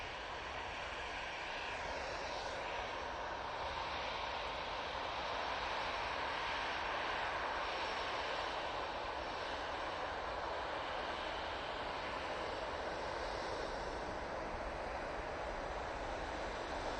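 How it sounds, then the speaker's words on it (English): An Etihad airliner with GE90 engines passes at Manchester Airport, its jet engines making a continuous broad roar that stays fairly soft and steady from start to finish. "It is very close now. I can hear it, that Etihad."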